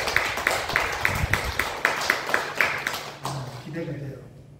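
A church congregation claps in steady unison, about ten even beats close together, then the clapping stops and a voice begins to speak.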